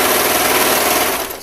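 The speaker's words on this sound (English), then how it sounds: "Using a serger like me, make sure you're using the full ½ inch seam allowance." Serger stitching and trimming a half-inch seam on colorblocked legging fabric, a loud, rapid, continuous mechanical whir that runs steadily and then tapers off at the end.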